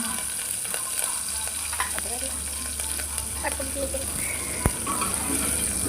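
Curry leaves and green chillies sauté in a pan with oil, giving a steady close sizzle and frying crackle with occasional stirring clinks.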